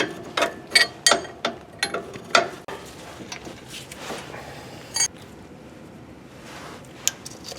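Ratchet tightening a spindle nut on a Ford Expedition front hub, a run of sharp, close clicking bursts, then quieter handling noise and a single click near the end.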